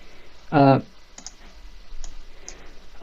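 A computer mouse clicks a few times while working in structural analysis software, with one distinct nearby click followed by fainter clicks spaced apart, over quiet background noise.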